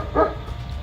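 A dog gives a single short, fairly quiet bark at night, with a faint background hum before and after.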